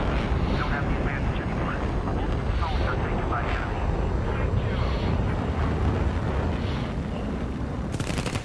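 A plane engine in the War Thunder combat game drones steadily and loudly for the whole stretch, a broad, unbroken roar with a voice talking over it.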